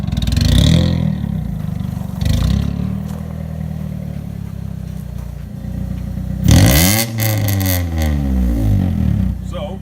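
A 2000 Honda Civic EX VTEC engine with a freshly fitted silencer idles with a rough low rumble, then climbs through a loud rising-and-falling rev around the middle before settling back to a steady drone.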